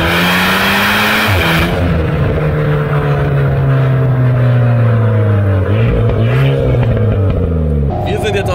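A 250 hp Renault Alpine A110 accelerates hard from standstill, its engine rising in pitch through the gears with brief dips at each upshift, loud and close throughout.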